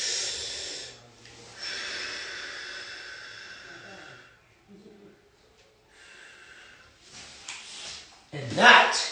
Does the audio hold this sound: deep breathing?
yes